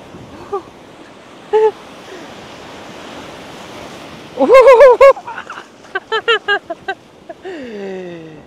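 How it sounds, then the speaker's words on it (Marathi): Sea waves wash steadily onto the beach at Dhanushkodi in a continuous broadband surf roar, broken by a few short, bright vocal-like calls or chirps near the middle and end. "या जेव्हा समुद्राची लाट आपल्याकडे येते ना"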